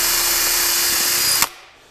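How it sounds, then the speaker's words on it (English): Cordless drill boring pilot holes into a wooden box front, a loud steady high whine that stops abruptly, leaving a brief fading tail. "I'm going to go ahead and put my drill bit on the cordless drill"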